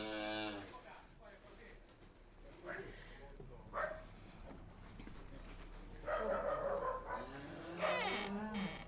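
A dog barks and yips intermittently on a farm, mixed with close human talk and occasional whimpering.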